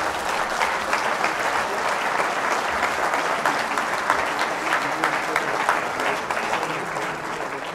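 Conference attendees keep up a steady, dense round of applause that stays fairly even and moderately loud throughout.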